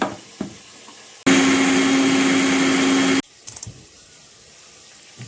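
A mixer grinder blending a cooking paste runs in one loud, steady whirring burst of about two seconds, then stops, with soft kitchen clatter before and after.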